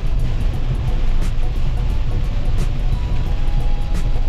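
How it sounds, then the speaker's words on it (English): A car creeping slowly along a flooded road through standing water, giving a steady, close low rumble with a continuous watery wash and no talking. "I have to drive really slowly because it feels like it's sliding on the water"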